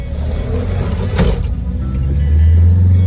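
A minibus pulls away on a Baghdad street, its engine rumbling low and rising in revs toward the end, close by with traffic noise around it.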